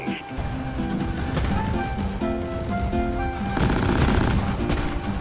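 Sustained automatic gunfire in Deep Rock Galactic, a continuous loud rattling stream under game music tones and background chatter, steady throughout.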